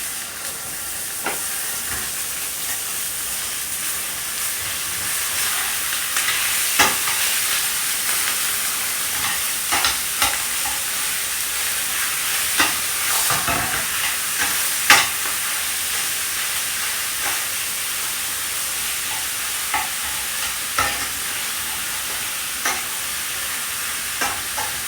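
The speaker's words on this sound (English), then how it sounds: "when we get the ground beef put into it, she'll sizzle pretty well" Ground beef sizzles steadily in hot oil in a pan, a constant crackling hiss punctuated by scraping and stirring clatters.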